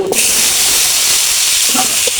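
Boal fish (wallago catfish) dropped into hot frying oil gives a loud, steady hiss and sizzle, broadband and continuous, with faint clinks near the end.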